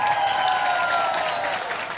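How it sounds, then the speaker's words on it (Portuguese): Crowd applause at South Summit 2023 for a third-place startup team, Meta Orgânico, thick and continuous clapping with a steady tone running underneath, all at an even level. "Uma salva de palmas"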